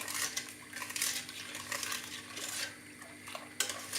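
Sugar being stirred into milk in a pot for güllaç, a utensil scraping and clinking against the metal pot in repeated soft strokes, fairly quiet and close.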